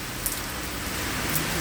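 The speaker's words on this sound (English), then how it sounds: "We have rain." Summer rain falling steadily outdoors, a soft continuous hiss of drops on surfaces at moderate distance, with a couple of slightly sharper drip ticks and no voices.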